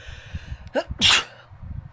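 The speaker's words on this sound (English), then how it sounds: "one second, I gotta sneeze" A single person sneezes once, close to the microphone: a quick sharp intake followed by a loud, explosive burst, with faint low rumble in the background.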